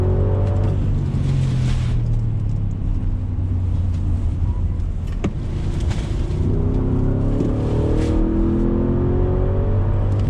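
A 2021 Audi SQ7 accelerates hard on throttle, its engine a loud rising drone with gear changes, heard from inside the cabin over road and wind noise.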